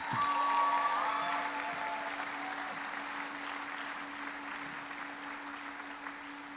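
Applause for scholarship recipients at a high school senior awards night fills the room, a dense, sustained wash of many hands clapping that starts strong and tapers gradually, with a steady background hum beneath it and no voices.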